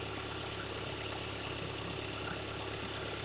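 A 2015 Volkswagen Golf TDI Sportwagen turbocharged diesel engine idling, a steady, even broadband drone with a faint rattle, constant in level throughout with no voices.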